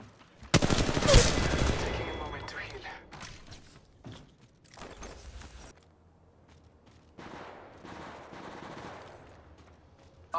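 Gunfire in Apex Legends Mobile: a loud, rapid burst of shots near the start, then scattered quieter bursts and mechanical clatter fading in and out.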